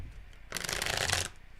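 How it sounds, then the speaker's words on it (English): Tarot cards are shuffled by hand in one quick, crisp riffle of rapid fluttering clicks lasting under a second, close and fairly quiet in a still room. "Let's shuffle one more time."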